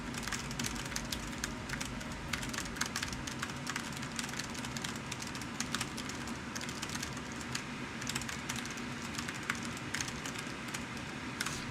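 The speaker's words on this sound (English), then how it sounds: "It's so bad compared to my other keyboard." Mechanical computer keyboard typed continuously at a fast, steady clatter of dense clicks, close and fairly loud, with no talking over it.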